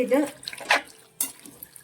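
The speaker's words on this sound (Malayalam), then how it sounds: "നമുക്ക് ആവശ്യത്തിന് വെള്ളം ഒഴിക്കാം" Water splashes briefly into a pan holding raw plantain for a Kerala mezhukkupuratti stir-fry with slit green chilies and salt, in short close splashy bursts mixed with a faint voice.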